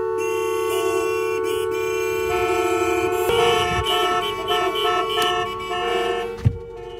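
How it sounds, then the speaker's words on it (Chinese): Horn of a new Nissan Altima (Teana) sounded during an in-cabin noise test, heard as a sustained, loud steady tone lasting several seconds, followed by a brief thump near the end. "放喇叭"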